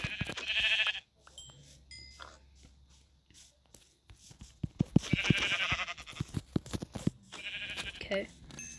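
Minecraft sheep bleat in a few short, nasal calls spread across the stretch, moderately loud, alternating with quiet gaps and clicky in-game footsteps or block sounds, with a player voice speaking quietly in between.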